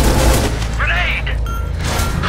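A grenade goes off in the co-op shooter game Scourge Outbreak, a loud boom among bursts of gunfire, with voices shouting over the battle.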